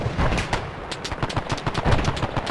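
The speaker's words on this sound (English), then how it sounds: "I'm getting shot at by the hill." Dense gunfire in the ARMA 3 military shooter rattles continuously, with rapid overlapping machine-gun bursts and single shots mixing into a steady, loud barrage and no talking.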